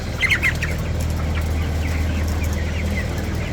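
Squawks come from a flock of 23-day-old broiler chickens in a controlled farm shed, sharpest in a short burst at the start, then scattered calls over a constant low hum.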